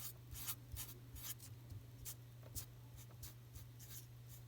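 Repeated short marker strokes on a board while solving an equation, steady scratchy pulses in a quiet room over a constant low electrical hum.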